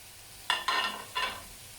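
Pounded spice paste hitting hot oil in a pan, giving three short bursts of close sizzling and stirring about half a second apart against a quiet kitchen background.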